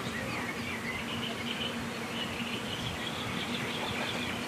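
A military drone near the front line around Horlivka gives a continuous, bee-like buzzing that is moderately faint and blended with broad outdoor noise, with no talk.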